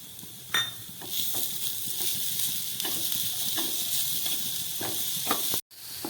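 Grated coconut and patali jaggery fry without water in a pan, giving a steady close sizzle broken by light scraping stirs, with no talking.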